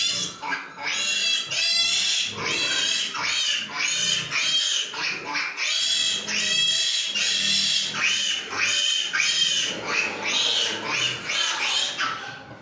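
Piglets on a pig farm squeal and grunt in repeated shrill bursts, several animals close by, loud and continuous with brief pauses between cries.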